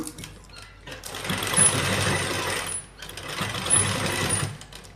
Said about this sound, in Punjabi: ਹੁਣ ਆਪਾਂ ਪੈਰ ਪੈਰ ਦੀ ਸਿਲਾਈ ਲਾਵਾਂਗੇ